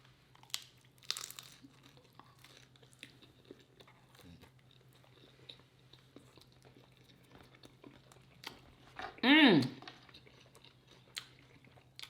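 Someone bites and crunches into a crunchy seasoned snack, with a sharp loud crunch near the ten-second mark after quieter chewing and faint background noise.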